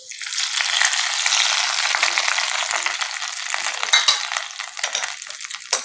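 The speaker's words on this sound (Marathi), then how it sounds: "फोडणी घातल्यामुळे याला छान अशी चव येते, त्यामुळे आपण फोडणी घालतोय।" A cumin and curry leaf tempering sizzles hard in a hot pan, a loud continuous crackle with small spits and pops that eases slightly toward the end, with no voices.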